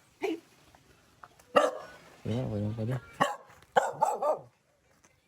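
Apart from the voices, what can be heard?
dog barking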